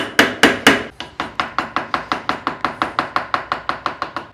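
Chisel struck repeatedly to remove wood for a double tenon joint, three heavier blows then a fast, even run of sharp, close knocks, each with a quick decay.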